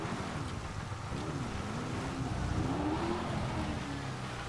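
An Audi RS3 engine in the GTA V video game drones through a tunnel, a steady, muffled hum that swells slightly, buried in broad rushing noise like wind, with no talk over it.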